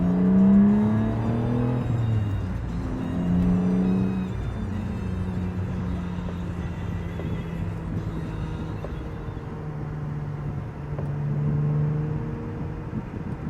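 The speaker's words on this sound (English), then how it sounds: "the part of the video where we're doing a wide open throttle pull" A 1999 BMW E36 M3 in Dakar Yellow with an aftermarket exhaust and intake at wide open throttle, engine droning and rising in pitch through the gears with brief dips at the shifts, heard from inside the cabin.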